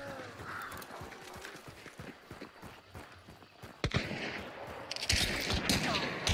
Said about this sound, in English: the guys in the house are shooting me